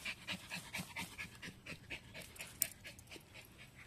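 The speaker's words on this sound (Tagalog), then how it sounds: "Hingal na si Bridget." A dog pants steadily in quick, rhythmic breaths, close and fairly quiet after play near bamboo outdoors, with no one talking during it.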